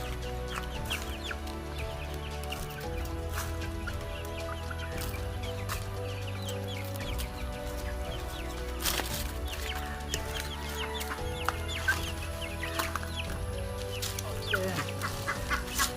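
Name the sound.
Aseel chicken chicks clucking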